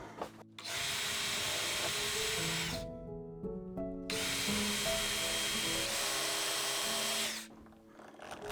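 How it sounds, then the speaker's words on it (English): A power drill countersinks holes in a wooden shooting board with loud sustained whining runs, separated by a short gap where the motor spins down and restarts, close and with no talking. "And we're going to countersink these."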